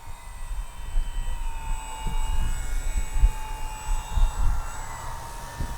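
Arrows Husky RC model airplane making a no-flap touch and go, a steady thin motor whine with a faintly shifting pitch over low wind rumble, heard at a moderate distance.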